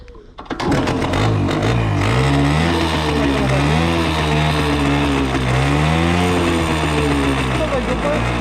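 Romet Ogar 205 moped engine kicked into life and revved: after a brief sputter it catches, then drones loudly and close by, rising and falling in pitch as the throttle is worked, with voices talking over it.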